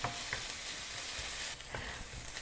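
Garlic and onions sizzle steadily in a pan for puttanesca sauce, a continuous close hiss with occasional soft stirring knocks.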